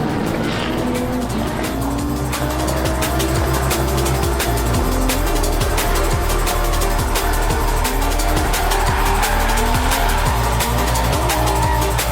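Drift car at a drifting event, with a revving engine roaring continuously alongside long tire squeals and skidding, loud and sustained without letup and no talk over it.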